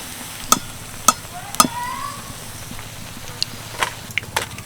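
Oil sizzles quietly throughout while a few sharp metallic clinks and scrapes ring out as cabbage-filled chicken bombs are turned and lifted from the pan.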